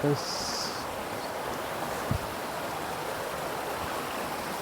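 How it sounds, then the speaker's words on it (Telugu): A small hill stream flowing through a hillside tribal area, a steady, even rush of water heard close and continuous, with a faint brief knock partway through. "ఇక్కడ వెళ్ళే దారిలో అయితే చిన్న కొండలాగా పారుతుంది"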